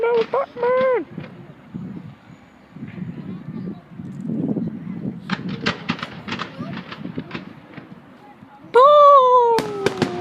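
Canada Day fireworks crackle and pop in a rapid flurry of sharp bursts amid wind rumble, while people talk and exclaim loudly nearby.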